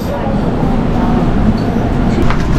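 A Busan metro subway train rumbling along, a steady loud low roar of wheels and motor throughout, with people talking faintly in the background.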